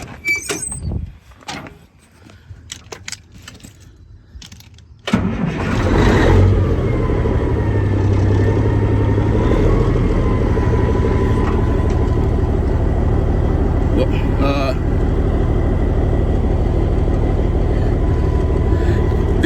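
A truck's Caterpillar 3406B diesel engine cranks with scattered clicks and clunks, then catches and roars into a loud, steady idle that runs rough, close by and with no talking.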